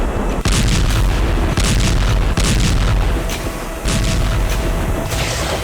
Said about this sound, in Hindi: वहां अचानक शुरू हो गए धमाके